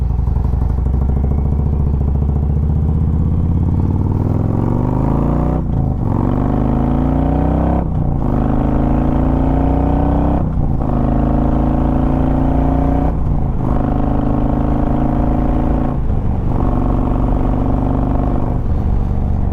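A 2016 Harley-Davidson Road Glide Ultra accelerates hard, its loud, close engine climbing through several gears, with each rising pitch sweep broken by a brief dip at the shift, alone without talk.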